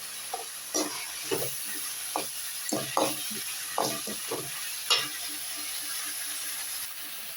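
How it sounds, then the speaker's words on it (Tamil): Onions fry in a pan for a prawn gravy, giving a soft background sizzle while a spoon scrapes and stirs in repeated short strokes, close and moderately loud, with no voices. "வெங்காயம் நல்லா வதங்கிட்டு உப்பு போட்டுக்கணும்"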